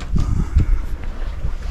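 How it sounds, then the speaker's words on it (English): Steady wind gusts buffet the microphone aboard a sailboat under way, a loud low rushing roar with uneven puffs and no voices. "Got some wind back."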